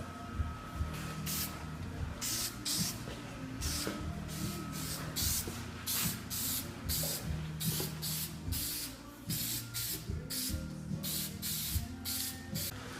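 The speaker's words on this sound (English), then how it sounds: "We're going to spray it and see how it turns out." Aerosol spray paint laying black paint onto truck wheel well trim molding, in repeated short hissing bursts at an uneven rhythm, close and fairly loud, with faint clicks between bursts.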